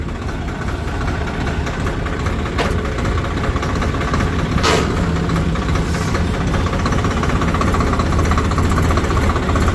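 Loud, continuous engine drone of a new-model Swaraj tractor running at road speed, steady and rumbling throughout, with a couple of brief sharp noises partway.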